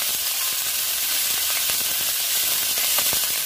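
Honagane greens fry in a pan with a steady, close hiss and sizzle, punctuated by faint stirring ticks, with no talking.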